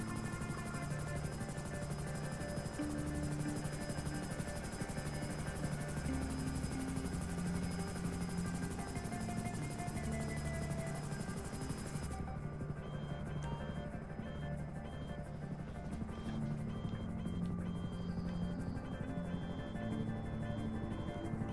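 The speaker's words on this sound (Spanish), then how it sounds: "¿Será ese helicóptero?" Helicopter in the video game GTA Online, a continuous droning rotor buzz with a steady whine, held at an even level throughout, slightly thinner in its upper tones partway through.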